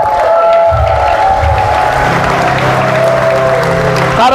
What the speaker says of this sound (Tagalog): para walang power yung palakpak nila